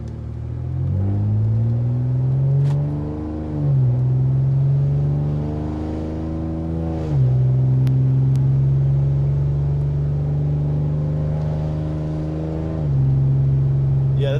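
A Ford Taurus Limited with a catless exhaust launching hard on a cold engine, its loud raspy note climbing steeply through several gears with brief drops at each shift, close and prominent.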